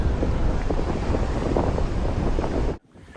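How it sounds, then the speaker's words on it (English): Steady roaring wash of big waves hitting rocks and heavy wind buffeting the microphone, continuous for about three seconds before cutting off abruptly into near silence. "There's some big waves out there."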